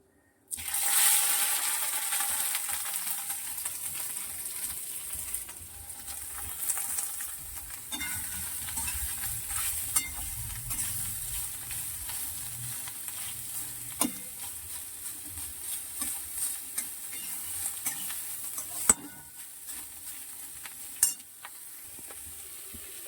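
Food frying in a pan on a home stove, a steady soft sizzle with occasional faint clinks and scrapes, running the whole time without anyone talking.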